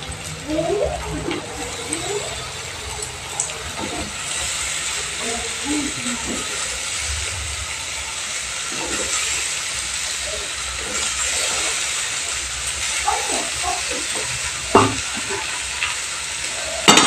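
Boiled peas are stirred into a spiced masala frying in a pan for ghugni, giving a continuous close hiss and sizzle with occasional scraping and stirring knocks, under a voice speaking intermittently.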